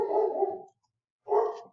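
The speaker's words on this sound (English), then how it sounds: "Sorry for the dog." A dog barks twice in the background, two drawn-out woofs separated by a short silence, fairly clear and not masked by talk.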